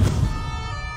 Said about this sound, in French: Les policiers arrivent sirène hurlante en quelques minutes à peine.